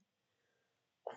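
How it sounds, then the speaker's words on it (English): A single short, sharp sneeze bursts out near the end after near silence, close and fairly loud, during a Phoenix Wright: Ace Attorney game session. "that was a sneeze."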